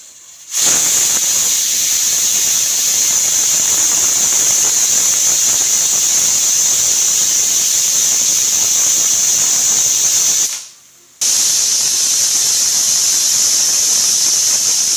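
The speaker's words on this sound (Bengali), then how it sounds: "আমি এখন প্রেসার কুকারের মুখটা বন্ধ করে দেব আর 4টে সিটির অপেক্ষায় বসে" A pressure cooker on the stove, cooking oil-free chicken curry, lets out a loud, steady high-pitched whistle with hissing steam that runs unbroken, cuts off briefly near the end, then resumes just as strong.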